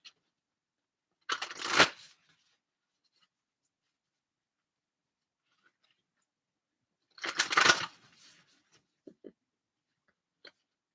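Two short bursts of oracle cards being shuffled by hand, separated by several seconds of near silence, with a few faint taps and ticks near the end.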